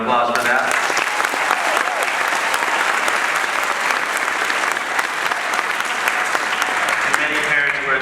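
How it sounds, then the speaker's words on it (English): A concert audience gives a school honors band a sustained round of loud, dense applause at a spring band concert, with scattered voices and cheers mixed into the clapping. "give them a round of applause for that"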